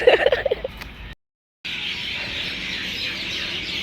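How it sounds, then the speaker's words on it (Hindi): Birds chirping outdoors, a few bright close calls at first, then after a short gap a steady high wash of many birds twittering in the background with no talk. "कितनी प्यारी परिंदों की आवाज़ है"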